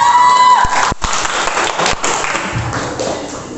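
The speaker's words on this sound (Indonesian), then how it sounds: "Kasih aplaus, semangat" Clapping and cheering from a crowd at an Islamic school quiz competition celebrating Maulid and Santri Day, dense and steady throughout with a few sharp taps near the start.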